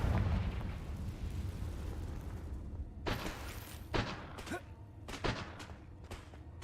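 The Confringo explosive spell goes off repeatedly in Hogwarts Legacy, giving several sharp bursts and booms over a rumbling in-game background.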